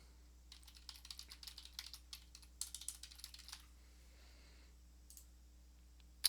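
Quiet, rapid typing on a computer keyboard, a run of soft key clicks for about three seconds, then a pause and a few isolated taps, alone with no talk.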